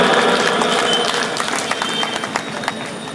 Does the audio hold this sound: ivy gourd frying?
no